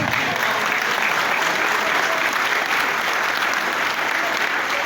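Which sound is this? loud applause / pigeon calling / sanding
loud applause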